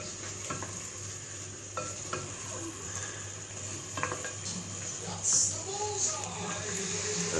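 Chicken and chorizo sauté in a pan with a soft, steady sizzle, broken by occasional clinks and scrapes of a utensil against the cookware.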